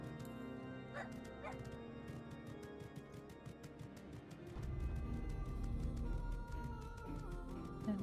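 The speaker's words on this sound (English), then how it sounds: "Let's listen to my dog bark." A dog in Final Fantasy XIV: A Realm Reborn barks and yips in short repeated bursts over game music and ambient sound, fairly faint and mixed with background noise.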